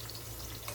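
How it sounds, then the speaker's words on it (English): Zucchini slices lightly frying in a pan, a steady close sizzle with soft crackle that runs evenly through the short moment, no voices. "we just want to do a light frying to these"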